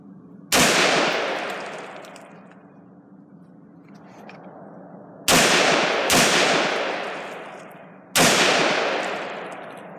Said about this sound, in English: So I'm just going to shoot a couple, I'm going to try and bump fire.